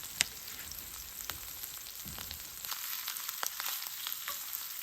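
Chanterelle mushrooms frying in hot grease, seasoned with salt, give a steady close sizzle with scattered crackles and pops and a few brief stirring sounds.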